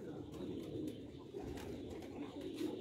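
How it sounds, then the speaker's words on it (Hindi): Sialkoti pigeons coo in low, soft, throaty murmurs, a few birds close by, the calls repeating steadily over quiet background noise. "कबूतर, कबूतर अच्छे हैं जी इनके"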